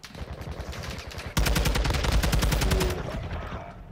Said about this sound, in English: Well, he's still shooting.